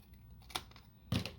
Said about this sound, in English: you can just snip across like this